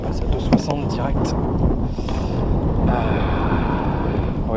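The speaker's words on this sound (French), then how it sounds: "Oui, là, avec le vent, c'est vraiment pas gérable" Wind buffets the microphone beside the water during carp fishing on a family camping trip, a steady rushing roar with gusty swells, while a person talks over it nearby.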